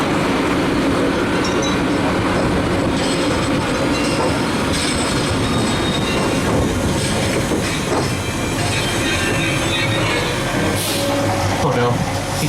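A Hollywood studio tour tram rolls along with a loud, continuous rumble of wheels and rattling cars, with occasional squeals, while voices talk over the steady noise throughout.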